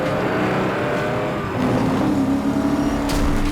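Loud car engines roar and rev in a car chase from the 2011 film Drive, a sustained engine drone with a pitch shift midway and a sharp burst near the end.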